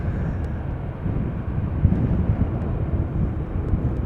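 An airliner lands quietly in gusty crosswind conditions at Amsterdam Schiphol without reverse thrust, a subdued, continuous low roar mixed with wind buffeting on the microphone.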